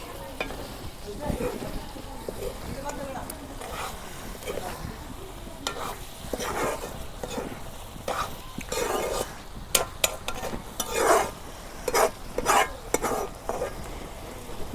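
Beef from a sacrificial animal cooks with taro stolons in a pan, stirred gently and slowly: a low sizzle broken by irregular scraping and clinking strokes of a spatula against metal, sometimes louder.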